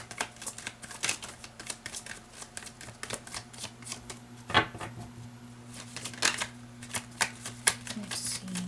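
Tarot cards are shuffled by hand close up, a quiet run of rapid papery riffles and flicks in irregular bursts, with a soft steady hum underneath.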